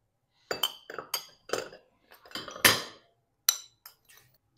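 Spices for a KFC-style Zinger burger are gathered into a bowl with a run of separate, close clinks and taps of spoon against dish, irregularly spaced with quiet gaps between them.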